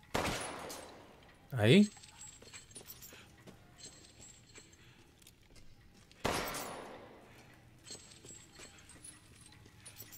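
Gunfire from the video game Resident Evil Village comes as two sharp, loud bursts several seconds apart, with a brief word from a player between them.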